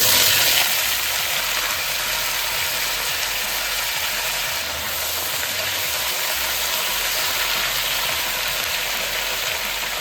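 Continuous loud sizzling of sliced potatoes frying in hot olive oil, a steady hiss throughout with no talking.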